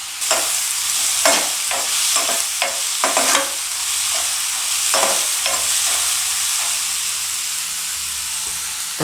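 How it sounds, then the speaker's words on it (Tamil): Tomato, green chili and onion fry in a pan for mushroom gravy, a loud steady sizzle with repeated scraping stirs of a spoon breaking through it, close and without talk. "ஒரு தக்காளி அரிஞ்சு வச்சுக்கிறேன், அதையும் போட்டுக்கிறேன்."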